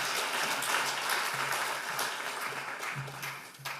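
A church congregation at a men's fellowship prayer meeting claps to welcome a speaker, a fairly quiet, dense patter of many hands that runs steadily and fades slightly toward the end.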